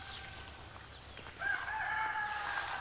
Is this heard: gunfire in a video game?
no